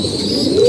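A pigeon from a tournament racing flock giving a single short, low coo, loud and close, with no talk.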